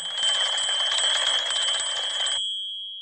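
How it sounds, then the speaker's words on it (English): An alarm clock rings in a rapid, continuous metallic bell trill, loud and close, for a little over two seconds before cutting off and fading into silence. "So when your alarm clock goes off"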